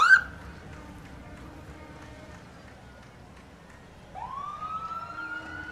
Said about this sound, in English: you hear the sirens and you see the red and blue lights